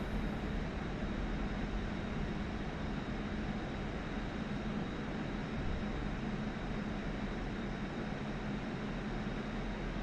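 Steady, loud jet roar from a MiG-29 Fulcrum passing in a flyby, a broad continuous rumble holding evenly throughout with no voices.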